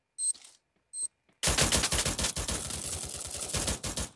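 M14 rifle fire in the Free Fire video game: two short shot-like blips, then a sustained, rapid, loud burst of automatic gunfire that runs steadily to the end.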